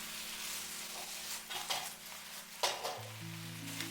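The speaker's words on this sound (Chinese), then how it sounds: "快速翻炒均匀，这样可以使茄子充分的吸收调料的味道" Eggplant is stir-fried in a wok, a low steady sizzle broken by a few scraping tosses of the spatula against the metal, quiet and near with no talking.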